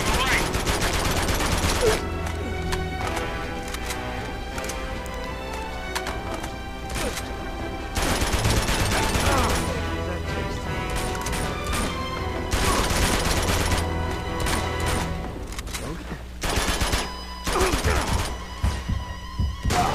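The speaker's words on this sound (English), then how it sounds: "So much recoil on these guns." Video game gunfire from Uncharted 2: dense bursts of automatic and single shots, impacts and crashes in loud volleys separated by brief lulls, with a player talking over parts of it.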